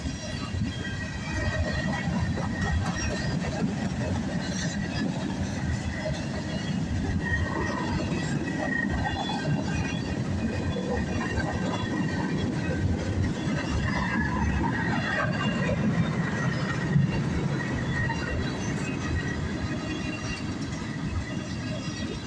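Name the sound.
northbound CSX freight train with tank cars passing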